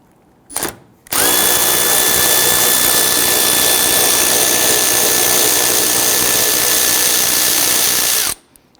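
A power tool with a deep socket spins out a 10mm bolt on a 2011-2023 Dodge Charger bumper in one long, loud, steady whine lasting about seven seconds, close by, with a brief click before it starts.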